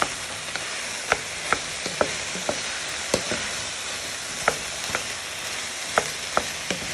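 Meat, onions and garlic frying in a pan for a sweet potato lamb pie, a steady close sizzle punctuated by sharp scrapes and taps as the mixture is stirred, with no talking.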